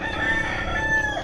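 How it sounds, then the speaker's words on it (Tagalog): A rooster crows loudly nearby in a drawn-out call, with other chickens clucking in the background. "Ang daming manok dito."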